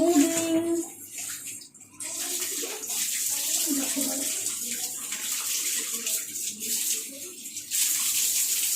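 Water running steadily from a tap at home during hair washing, a continuous splashing hiss with faint shifting tones, moderately loud and close throughout.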